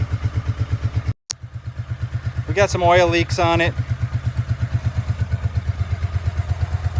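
A Honda Shadow Sabre 1100 motorcycle with oil leaks idles close by with a steady, lumpy V-twin throb that briefly cuts out and resumes, while someone talks over it.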